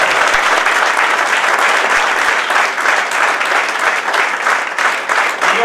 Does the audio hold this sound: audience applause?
yes